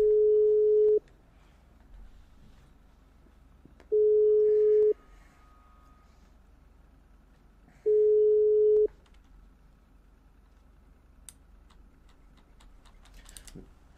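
Three steady electronic phone tones from a phone call in the video game GTA V, each about a second long, spaced evenly with a few seconds of quiet between them, like a call ringing out.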